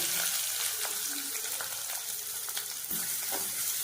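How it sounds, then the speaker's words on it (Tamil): Onions frying in oil for a beef gravy, a continuous close sizzle with occasional stirring knocks and scrapes, no voices. "இப்போ வெங்காயம் சேர்க்கிறேன்."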